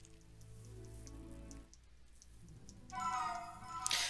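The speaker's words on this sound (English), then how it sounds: "the rain dance is just jumping around demanding rain" Rain from the Rain Dance move in the video game Pokémon Brilliant Diamond patters softly and steadily alongside quiet game music tones, swelling louder toward the end.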